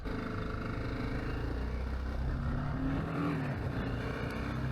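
BMW G310GS motorcycle on a test ride, its single-cylinder engine and exhaust droning continuously and loud, with rising and falling pitch as revs change through second gear, mixed with wind rush.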